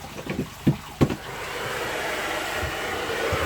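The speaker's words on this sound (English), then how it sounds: "I'll plug the old hairdryer in." A hairdryer switches on after a few knocks and then blows with a steady, loud rushing whoosh that continues to the end.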